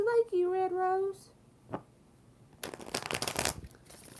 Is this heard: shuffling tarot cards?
yes